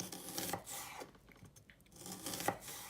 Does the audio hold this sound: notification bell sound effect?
no